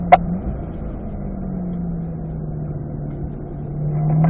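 Chevrolet Corvette driven on a race track, its engine holding a steady low drone that slowly shifts in pitch as the car unwinds out of a tight apex and changes gears, with a sharp click near the start and a swell at the end.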